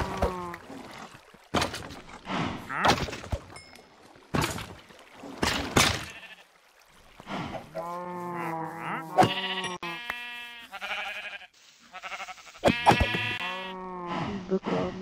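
Sheep in the video game Minecraft Skyblock bleat repeatedly in clear, harmonic calls during the second half, after a stretch of sharp clicks and short bursts.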